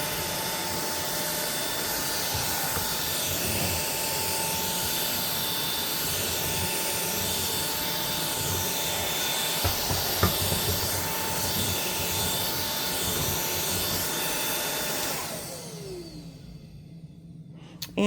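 A V16 Pro cordless vacuum cleaner runs on its low setting, a loud steady whirring motor hum with a high whine, occasional knocks of debris, then winding down at the end.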